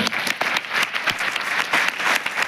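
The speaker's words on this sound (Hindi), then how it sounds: "अपने लिए जोरदार ताली बजाएं" A training-session audience claps hard for themselves, a dense, steady burst of applause with sharp individual claps standing out, loud and close throughout.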